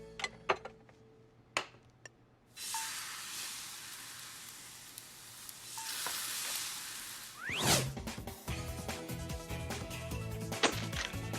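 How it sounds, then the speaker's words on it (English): A blintz sizzles and crackles in a hot frying pan, the hiss swelling as it lands, with a few clicks and clatters of utensils near the start. "And then it's onto the frying pan until it's golden brown."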